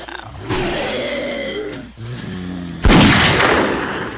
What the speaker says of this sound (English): I just heard gunfire.